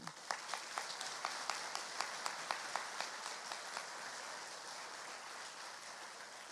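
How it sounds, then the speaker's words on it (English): An audience at an elementary school awards ceremony applauds students nominated for an award. A few distinct, evenly spaced claps stand out over a soft, continuous patter that carries on after the claps fade. "we want to give them another round of applause for being nominated"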